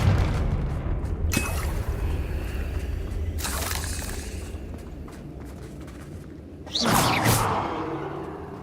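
Confringo fire spell blasts in the Hogwarts Legacy video game, several loud booming whooshes spaced a couple of seconds apart over rumbling battle ambience, the last one heaviest.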